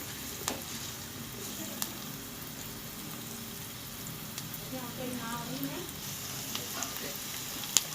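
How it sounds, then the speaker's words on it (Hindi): Onions frying in a pan and stirred until light brown give a steady, soft sizzle, with a few sharp clicks and scrapes from the spoon scattered through. "अब हम इसको हिलाएंगे अच्छी तरह से। मिक्स कर दिया और प्याज का कलर जो है वो लाइट ब्राउन होने तक हम इसको बनाएंगे।"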